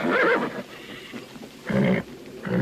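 Stallion neighing in a western film setting, two loud, shrill whinnies close by, separated by a short quiet gap of faint rustling.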